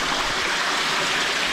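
A river flowing through a cave on the Isle of Skye, Scotland, gives a steady, close rushing of water that fills the space evenly and echoes off the rock, with no voices over it.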